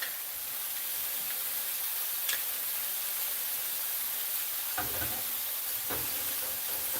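Food sizzles and fries steadily over an open fire, a continuous close hiss with a few faint clicks and pops scattered through it.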